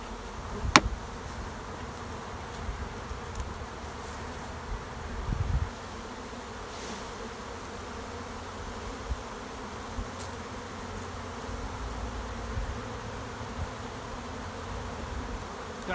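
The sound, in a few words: honey bees buzzing around hive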